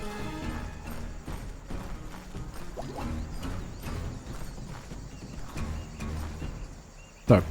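Horses gallop in Call of Juarez during a stagecoach chase across the prairie, steady rapid hoofbeats running continuously with an occasional whinny and a sharp crash at the very end.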